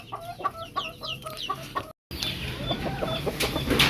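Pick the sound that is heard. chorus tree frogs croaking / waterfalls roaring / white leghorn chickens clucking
white leghorn chickens clucking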